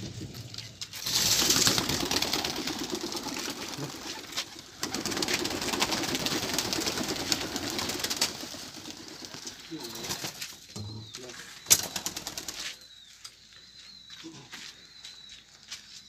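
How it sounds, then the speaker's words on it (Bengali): Eleven pigeons taking off after release at a pigeon tournament in West Bengal, with bursts of wing flapping and soft cooing amid outdoor background noise and occasional voices nearby. "এই পায়রা উড়ে গেল।"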